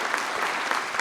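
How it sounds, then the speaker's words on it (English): Clapping from a crowd at a memorial service, a brief, dense and sustained burst of many hands with no break. "let's give her a round of applause"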